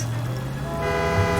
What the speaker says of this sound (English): Gotta have the horn on for this one.